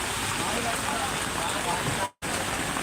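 Heavy, steady rain roars continuously, with a brief total dropout near the end before the downpour resumes.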